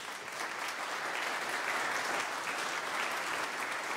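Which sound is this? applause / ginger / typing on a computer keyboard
applause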